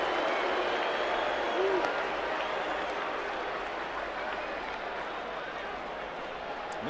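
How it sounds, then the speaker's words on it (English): Distant baseball stadium crowd roaring and applauding as a manager is ejected, a steady broad wash of noise that fades slightly toward the end, with a commentator talking faintly. "So now the crowd will serenade Jim Leland off the field."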